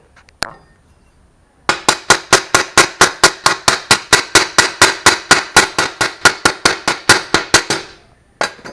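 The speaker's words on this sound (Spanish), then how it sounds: "Vamos a proceder a sacar la escoria a ver cómo quedó." Rapid, sharp metallic taps of a hammer chipping slag off a weld made with 6013 electrodes, about two dozen evenly spaced ringing strikes in a loud close burst, preceded by a single tap and followed by one more.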